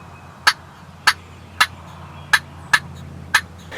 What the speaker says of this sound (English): Gobbler.